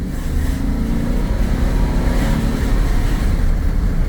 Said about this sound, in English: spin the tires, baby